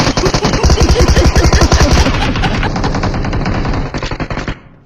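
Rapid automatic gunfire in the video game BGMI, a loud close burst of evenly spaced shots for about two seconds followed by further crackling fire that tails off to silence.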